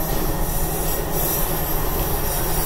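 A one-car local train in Gunma, Japan, rumbles on the rails as it departs, a dense, loud, continuous roar heard from on board with no voices.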